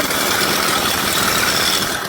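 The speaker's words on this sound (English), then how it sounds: "Push down your choke, then now your engine's running" Small engine fitted to a pedal bicycle, running steadily at idle while the bike rolls at about 11 mph; a continuous, fairly loud buzzing drone with wind rush, no talking.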